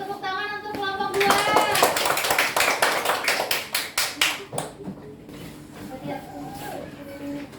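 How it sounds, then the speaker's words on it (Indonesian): Schoolchildren in a classroom clap for a group of classmates, a quick run of loud, crisp handclaps that swells and then thins out into scattered claps and children's voices. "Beri tepuk tangan untuk kelompok 2"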